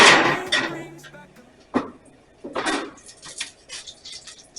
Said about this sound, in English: we need to pull that pan out of the oven